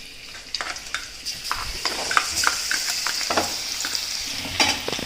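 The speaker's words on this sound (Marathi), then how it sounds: "आता इथं तेल तापलेलं आहे, लसूण घालते" Crushed garlic dropped into hot oil in a pan, a bright hissing sizzle rising steadily, punctuated by frequent clicks and scrapes of a spoon stirring it close up.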